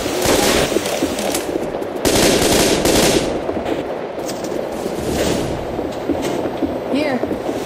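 Gunfire in the zombie shooter Left 4 Dead 2: rapid close bursts of automatic weapons and shotgun blasts, loud and busy, with voices calling out between shots.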